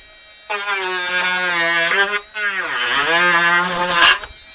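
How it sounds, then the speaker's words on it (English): A high-pitched VEVOR 4V rotary tool whines steadily as a saw blade cuts through plastic, its pitch dipping under load before rising again, with a short pause midway. "I want to use the saw attachment because I think this is going to work actually very well for plastics"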